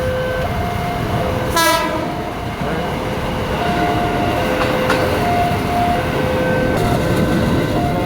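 A train rumbles past a railway crossing nearby with a loud continuous roar, a short warning horn blast and steady crossing bell tones ringing repeatedly.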